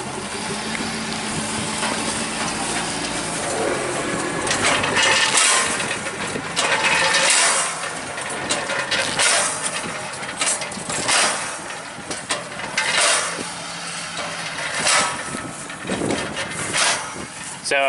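A new cattle cake feeder runs while it dispenses feed, giving clicking, ratcheting mechanical sounds over an engine hum. The clicks come in irregular bursts at close range.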